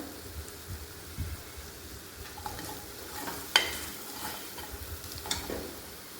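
Homemade garam masala and turmeric frying in oil for a potato and pea curry, a faint steady crackle with a few soft scrapes and taps of stirring.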